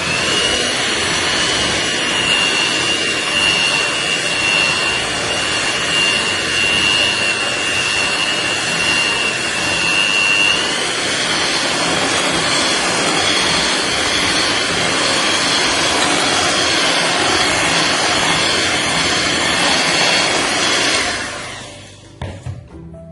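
Electric hand mixer whirring steadily through mango cake batter in a bowl, a loud continuous motor drone that runs for about twenty seconds before switching off near the end.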